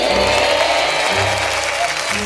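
A class of children applauding a new classmate in a cartoon episode, a steady wash of clapping that fills the short moment at close range.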